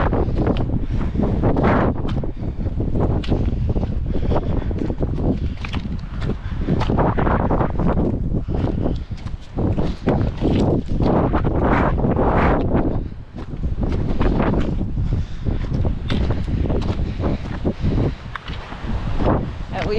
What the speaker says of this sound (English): It's windy, so you're probably having a hard time hearing me.